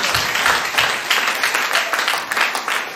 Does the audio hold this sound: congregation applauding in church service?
yes